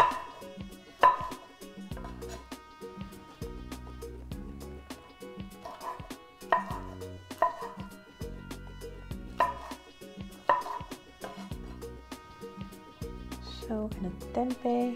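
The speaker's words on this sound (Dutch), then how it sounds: "Die ga ik gewoon eventjes in blokjes snijden." A knife chops tofu into cubes on a cutting board while making gado gado, a series of uneven sharp taps and thuds with background music playing throughout.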